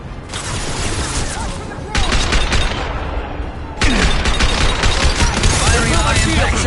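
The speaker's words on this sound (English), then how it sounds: "Firing on my impact shot" Dense, loud gunfire from weapons in the Mass Effect 2 video game, sustained rapid bursts of automatic fire that step up in intensity twice, with no talking.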